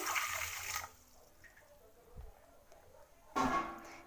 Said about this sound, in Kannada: ಇವಾಗ ಒಂದು ಗ್ಲಾಸ್ ನೀರು ಹಾಕೋತೀನಿ